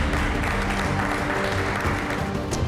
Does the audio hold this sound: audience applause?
yes